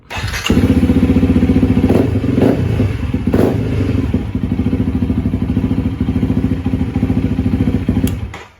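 Honda CRF300L motorcycle fitted with a plastic fuel tank starting up close, a brief crank and then a loud, steady thumping idle with a couple of blips, no talk.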